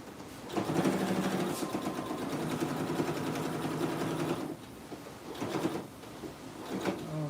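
Sewing machine stitching a skirt, a close, steady whirring run for several seconds, then a pause and a few shorter bursts of stitching.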